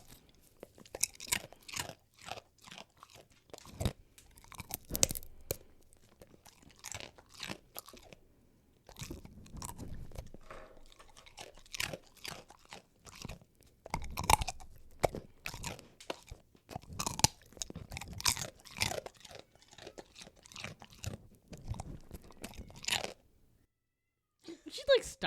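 A cat crunches dry food up close, with many sharp, irregular bites and chews arriving in quick bursts and short pauses over about 25 seconds, with a few soft meows mixed in.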